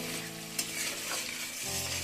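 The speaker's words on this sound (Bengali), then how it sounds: "চিংড়ি মাছের যে ঠ্যাংগুলো রেখেছিলাম সেগুলো মশলার সঙ্গে একটু ভেজে নেবো মশলা দিয়ে।" Prawn legs fry with ground spices in a pan, a steady close sizzle broken by a scrape of stirring, with no talk.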